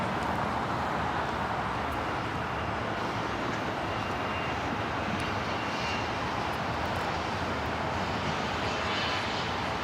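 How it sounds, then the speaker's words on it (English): A Cessna 560 XL Citation business jet on approach to land at Los Angeles airport, a loud, unbroken engine roar filling the whole stretch with no voices over it. "560 XL Citation coming in from San Luis Obispo."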